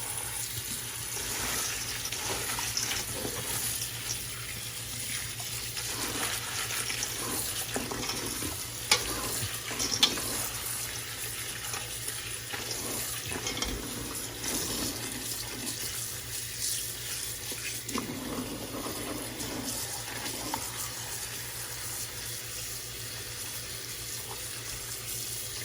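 Sorrel gets rinsed under a running kitchen tap: a steady hiss of flowing water with splashing and rustling as the leaves are handled, moderately close and fairly quiet.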